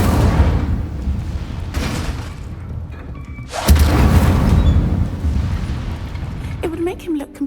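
Incendio fire spells cast in Hogwarts Legacy, several booming bursts with a large whooshing blast near the middle, mixed with combat noise and voices.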